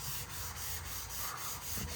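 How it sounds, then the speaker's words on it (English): Paint on a 1969 Pontiac GTO Judge in Starlight Black is hand-sanded in a quiet, regular back-and-forth rhythm, with roughly eight close, soft rasping strokes and no voices. "So I'm gonna get back to sanding here."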